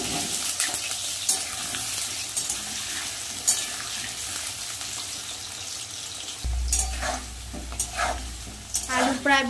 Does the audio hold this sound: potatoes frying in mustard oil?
yes